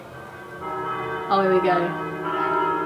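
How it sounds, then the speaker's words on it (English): Church tower bells in Zadar ring out, loud and resonant, their strikes sounding through a person's brief spoken remark nearby. "can you hear the bells in the background? That's from the church tower."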